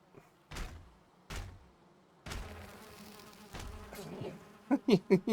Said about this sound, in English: You hit the bees. Let's not attack the bees.